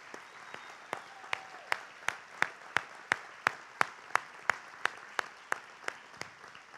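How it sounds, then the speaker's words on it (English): An audience in a church service applauds foster parents. The sound is a run of distinct, sharp claps in a steady, even rhythm, roughly three per second, with a quiet room behind them. "Let's give them all a round of applause."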